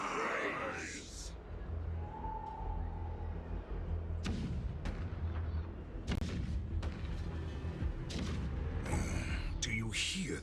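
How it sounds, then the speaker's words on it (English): Cannons fire in Honkai Star Rail, giving scattered booming thuds and sharp blasts at uneven intervals beneath game music and a voice talking. "The rumble of the cannons."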